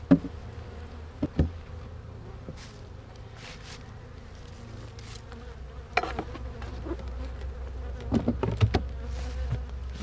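Honeybees hum steadily around an open hive during routine beekeeping, a low continuous buzz that persists throughout, punctuated by a few sharp knocks and bumps from handling the hive boxes.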